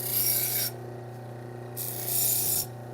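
A kitchen knife from a butcher block set is drawn along a sharpener in two long, close, grinding strokes, each a bright rasping hiss, separated by a short pause with a low steady hum beneath.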